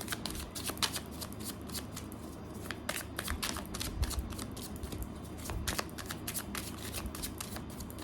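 Tarot cards being shuffled by hand, a continuous run of quick riffling flicks and soft slaps, close but quiet, with no talk.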